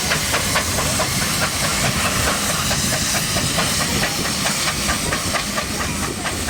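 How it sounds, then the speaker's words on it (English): A 140-ton steam locomotive and track unit on the move at the Great Dorset Steam Fair in 2011, with loud, continuous hissing steam and a steady, rhythmic chuffing running throughout. "The 140 tons of track unit and locomotive on the move"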